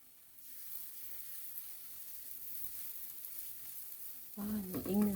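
Seaweed fulvescens pancake batter sizzles in a frying pan with a light coating of oil, a steady close frying hiss that runs throughout before a voice starts talking near the end.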